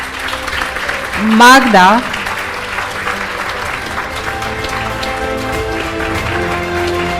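An audience claps steadily throughout at the Romanian Business Services Forum & Awards Gala 2024. A short loud vocal shout rises near the start, and a voice speaks briefly over the applause.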